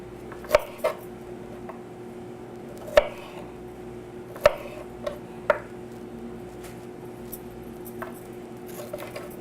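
A knife chops vegetables on a cutting board in a coastal kitchen, with a few sharp, sparse knocks spaced unevenly over a quiet background hum.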